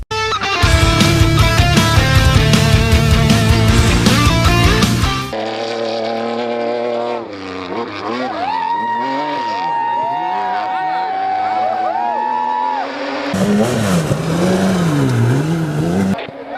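Rally cars in a Brazilian speed rally championship accelerate and rev hard, with engine pitch climbing and dropping through gear changes, loud and close, joined by busy music.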